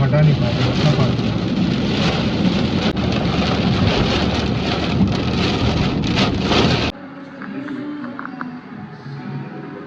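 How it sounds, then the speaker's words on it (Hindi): Heavy rain drums hard and continuously on a car roof during a road trip on India's NH16, wipers overwhelmed, a dense roar that suddenly drops to a quieter interior hum near the end. "पानी इतना गिर रहा है कि फ्लाई आइडियल नहीं था।"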